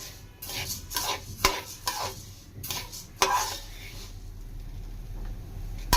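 Stirring in a kadai over a medium flame, a spoon scraping and clinking against the pan in uneven strokes, with a few sharper knocks and a faint sizzle underneath, heard close up and with no talking.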